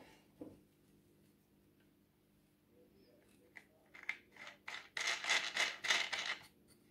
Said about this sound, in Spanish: Ahora pongo la pata y cojo la pieza que me falta, la que tiene el tornillito, y lo atornillo.